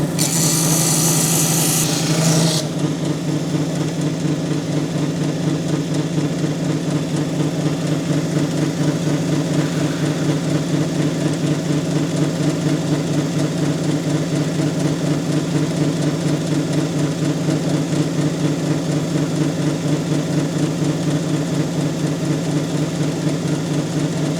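Lapidary grinding wheel working a solid geode sample, a steady loud motor hum with a continuous grinding drone held for the whole stretch, close and without speech.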